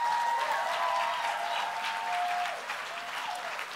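Steady audience applause fills a poetry slam hall after scores are announced, a dense sustained wash of many hands clapping that eases slightly toward the end, with faint tonal feedback or whistles threading through.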